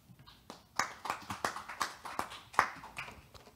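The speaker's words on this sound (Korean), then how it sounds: "박수로 맞이해 주시기 바랍니다." Scattered, light clapping from a conference audience as a session moderator is welcomed at an academic symposium, with distinct individual claps in a loose rhythm, fairly faint and without talk.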